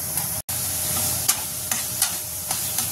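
An onion and coconut masala paste roasts and sizzles steadily in a pan, with several soft scraping stirs breaking through the frying hiss at irregular intervals.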